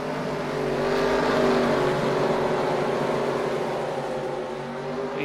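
Race cars on the track at Knoxville Raceway in an SRX Series race, as the pace car pulls off before the green flag: a loud, steady, blended engine roar that holds throughout.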